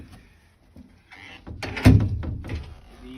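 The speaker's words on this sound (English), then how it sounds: "and I'll close the door" A custom metal and wood door on a DIY school bus conversion swings shut with a short scrape and a solid, fairly loud thunk, followed by a brief rattle as it settles.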